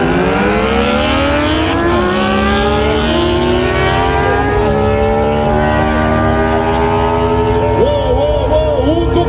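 Loud Yamaha MT-09 motorcycle engine at a drag racing bike festival, revving in rising harmonic sweeps with gear shifts, blending with crowd noise and other engines throughout.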